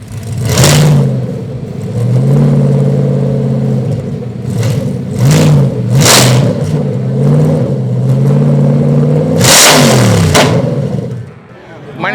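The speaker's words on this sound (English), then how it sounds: "Both of these things are both engine run stands, and we are going to fire them up." Engines mounted on engine run stands at a cars-and-coffee meet start and rev repeatedly, loud rumbling idles broken by sharp throttle blips rising and falling, with people talking nearby.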